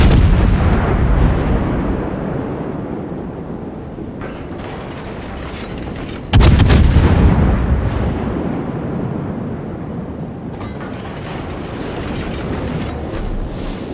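Battleship broadside from a Montana in World of Warships: booming naval gunfire over a steady roar of battle, with one sharp, heavy salvo blast midway that rolls off into continuing rumble.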